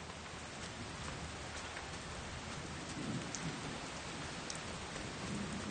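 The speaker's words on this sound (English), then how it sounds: "In Zhanjiangyuan's summer, rain can come at any time" Steady summer rain on the Zhanjiangyuan plateau hisses evenly across the whole clip as a dense patter, with a faint low rumble partway through and no voices.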